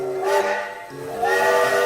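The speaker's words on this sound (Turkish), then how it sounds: "Tren rayda gider ve böyle ses çıkarır." A train whistle blows in two sustained, hissy blasts, loud and steady with a brief dip between them.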